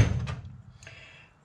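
A tool drawer in a workshop cabinet holding end mill cutters slides and knocks, giving a sharp opening clunk followed by a couple of lighter rattling clicks that fade out, with no talking.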